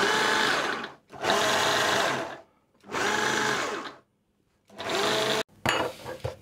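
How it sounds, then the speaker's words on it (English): A food processor pulses flour into plum crumble pie dough: three long, loud whirring bursts of roughly a second each, separated by short pauses, then a shorter final burst with a brief rattle. "I'm going to pulse it a few times just so that that flour mixes with the dough we've created"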